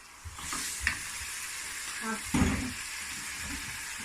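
Tinned chopped tomatoes and vegetables dropped into a frying Bangladesh-style vegetable curry, a short burst of hissing sizzle with soft wet thuds and a stirring scrape, close and moderately loud.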